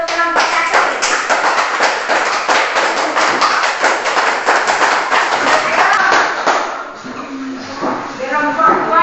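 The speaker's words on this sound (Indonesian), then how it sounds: "Kalau tidak ada kita kasih aplaus dulu untuk kelompok 1." Applause from a classroom group for the first team's presentation: a steady run of close, dense clapping that thins out after several seconds as a voice begins speaking.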